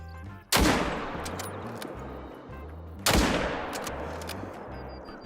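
Two loud rifle shots fired at deer in the hunting game theHunter, each a sharp blast with a long rolling echo that fades out, about two and a half seconds apart.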